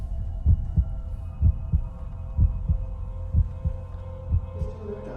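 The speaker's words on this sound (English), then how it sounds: "He's monitoring the heartbeats if anyone is freaking rigged." Amplified human heartbeat as heard through Daredevil's heightened senses: a steady run of deep, throbbing thumps about once a second, close and heavy, over a continuous low hum, with no talking.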